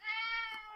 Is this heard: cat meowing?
yes